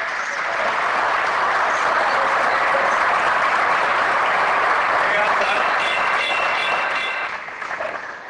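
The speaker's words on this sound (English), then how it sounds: "I'm sorry if the gallery continues to clap like that" Sustained applause from the public gallery of a council meeting fills the room, steady and loud for several seconds before tapering off at the end.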